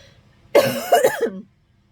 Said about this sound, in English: I can't get over this cough.